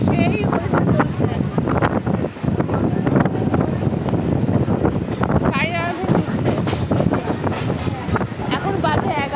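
A moving train with wind rushing past, a loud steady roar and rumble filling the whole stretch, buffeting air noise throughout, with a voice faintly audible in the mix.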